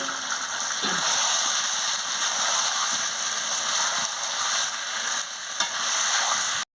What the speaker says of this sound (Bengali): এবার আমি আলুটা মশলার সঙ্গে দিয়ে দিচ্ছি, দিয়ে ভালো করে কষিয়ে নিচ্ছি।